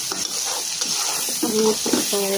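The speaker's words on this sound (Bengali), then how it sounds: "তার মধ্যে তেল পেঁয়াজ দিয়ে একটু ভাজা ভাজা করছি" Oil sizzles and crackles steadily in a pan as onions fry for rohu fish bhuna, with stirring scrapes and a few soft tonal clinks near the end.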